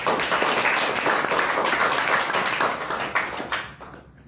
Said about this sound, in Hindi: इस लेवल के लिए एक बार जोरदार ताली बजाइएगा डायमंड।